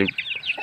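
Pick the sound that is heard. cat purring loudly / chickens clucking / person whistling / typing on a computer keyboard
chickens clucking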